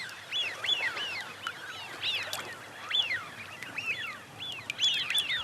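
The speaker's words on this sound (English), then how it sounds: "for these Eurasian widgeons, it's time to replenish their reserves after a long journey" A flock of Eurasian wigeons on Chilika lake calls repeatedly while feeding, clear rising-and-falling whistles overlapping in quick succession over soft water ambience, nearby and fairly loud.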